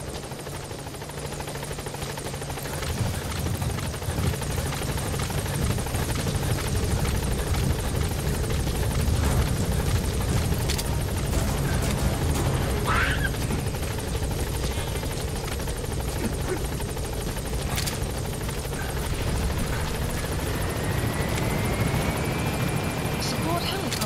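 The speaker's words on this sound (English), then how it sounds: "Support helicopter has arrived." A support helicopter in Metal Gear Solid V: The Phantom Pain thrums steadily and loudly for the whole stretch, its rotor wash constant, while radio voices speak briefly over the noise.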